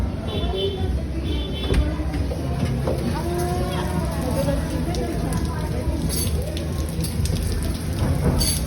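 Steady rain falls in a dense, continuous hiss during a Father's Day gathering, with voices talking faintly underneath throughout.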